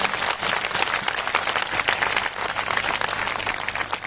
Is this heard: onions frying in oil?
no